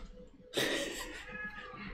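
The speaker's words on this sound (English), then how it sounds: "don't know if you guys can hear the cat." A cat lets out a single drawn-out meow that starts abruptly, nearby and moderately loud, against a quiet room hum.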